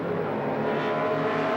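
A 1970s Pro Stock Chevy Monza drag race car roars down the strip in a steady, loud, sustained engine drone, a continuous full-throttle howl with no talking over it.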